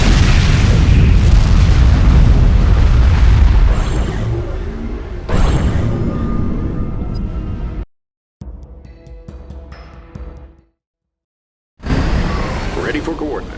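A nuclear missile explosion in the Command & Conquer 3 video game erupts as a loud, deep boom and rumble that fades into a long, rolling roar, broken by abrupt cuts to silence.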